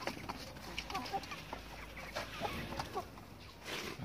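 Chickens cluck in a coop with a black rooster among them, a faint busy scatter of short clucks and calls from several birds throughout, at some distance, no talk.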